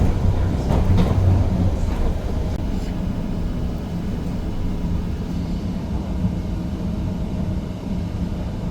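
A tram in The Hague rolls along at steady speed, heard from inside as a continuous low rumble and rattling hum with a slightly louder swell near the start and no voices.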